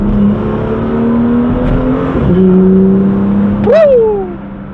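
A BMW M2 sports car engine accelerates loudly and steadily, its pitch climbing, then dips and rises again in a final sharp rev.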